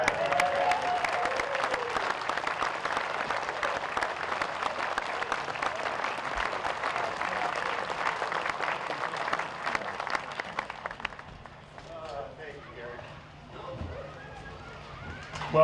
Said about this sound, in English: I want a nice round of applause, please